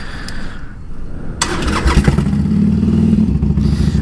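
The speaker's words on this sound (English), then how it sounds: "The bike is a 2014 Harley Davidson Iron 883." A 2014 Harley Davidson Iron 883 engine cranks with a starter whir, then fires into a loud, deep, close rumble that settles into a steady idle.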